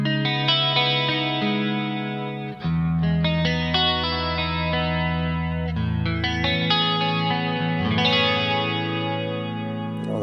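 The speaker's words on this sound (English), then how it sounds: "It's Kemper's take on a multi-line chorus, kind of 80s chorus sound." Guitar played through a Kemper Profiler hyper chorus, an 80s-style multi-line chorus, giving sustained shimmering chords with a lush, wavering, slightly driven tone that change every few seconds, loud and alone.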